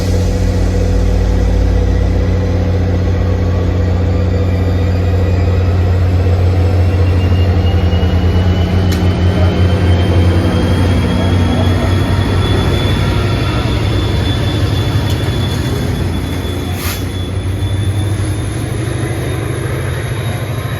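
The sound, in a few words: GP40FH2 diesel locomotive 4904 pushing train to Hoboken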